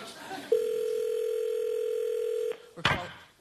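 A telephone dial tone rings out as a studio talk show calls a contestant on the line, a steady loud tone lasting about two seconds, then cutting off before a short burst of noise and a voice.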